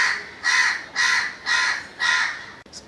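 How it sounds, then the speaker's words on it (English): Four loud, evenly spaced caws from a crow close by, each a harsh, drawn-out call about half a second long, followed by a short faint fifth note at the end. "Crows are the most irritating."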